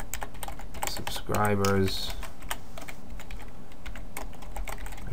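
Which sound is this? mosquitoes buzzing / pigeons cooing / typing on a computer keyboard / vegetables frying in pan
typing on a computer keyboard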